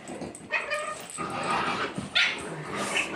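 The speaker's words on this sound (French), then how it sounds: "le petit Moïse qui aboie. Trop fort." A small dog yips and barks excitedly in a few quick bursts, close by, with whimpers and other dogs' noises mixed in.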